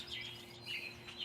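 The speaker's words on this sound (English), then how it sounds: "I can't hear because of the bird chatter" Birds chirp faintly in a backyard, soft high twitters recurring over a steady low hum with no voices.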